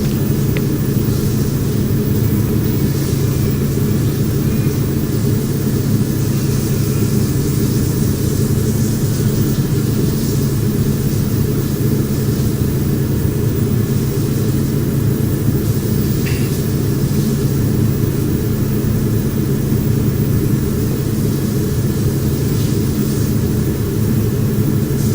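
A Beechcraft King Air 350i turboprop in the FSX flight simulator game hums in a steady, loud, unbroken cabin drone with a low rumble throughout.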